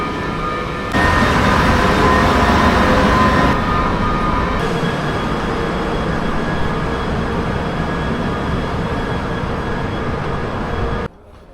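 A London Underground Piccadilly line train running into sidings, a loud continuous rumble and rattle of wheels and motors heard from on board, which cuts off suddenly near the end.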